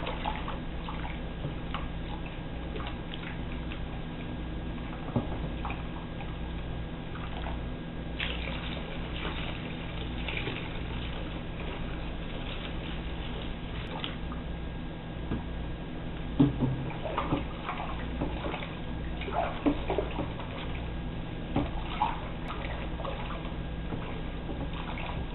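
Water sloshes and trickles as it is mixed into a batch of homemade laundry detergent, a steady low liquid churn with small drips throughout and no voices.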